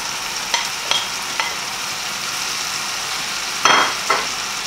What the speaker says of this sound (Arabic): هلا اللحمة استوت، راح ضيف كيلو البندورة المفرومة مقشرة